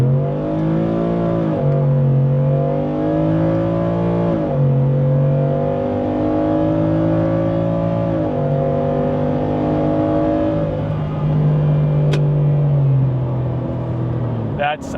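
Manual truck with a tuned engine accelerating hard from first gear, a loud droning exhaust and engine note that rises in pitch, drops at each shift and climbs again, continuous and close throughout.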